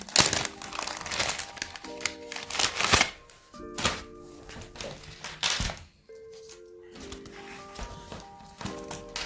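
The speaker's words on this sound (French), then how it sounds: "je me prends une nouvelle enveloppe" Crisp paper rustling and crinkling as a paper envelope is picked up and handled, close and fairly loud, in irregular bursts with a few soft thumps and brief quiet gaps.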